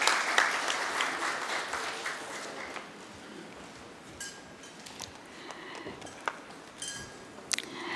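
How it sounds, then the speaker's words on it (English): An audience at an international shipbuilding panel discussion applauds the panel for several seconds, the clapping thinning out amid faint clinks of glasses and dishes and scattered room noise. "A huge round of applause for"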